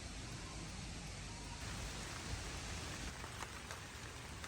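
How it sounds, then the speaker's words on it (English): Steady rain falls outdoors at night as a dense, even hiss of drops hitting surfaces. It is fairly quiet and constant throughout, with a few sharper patters near the end and no voices. "if you couldn't tell, it's raining out."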